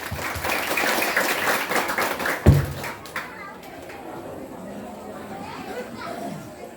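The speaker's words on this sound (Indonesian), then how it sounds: "Saged tepuk tangan nggih buat adik-adikipun." Applause for the TPA Nurul Islam children after they perform their hymn at a prayer-hall gathering: a crowd claps steadily for about two and a half seconds, then the clapping fades under murmured chatter and children's voices.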